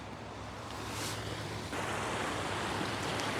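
Steady, rushing water roars continuously, a dense broadband hiss with no breaks, slightly louder in the second half.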